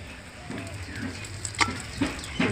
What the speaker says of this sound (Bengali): নাড়াচাড়া করে লাল লাল করে ভেজে নেব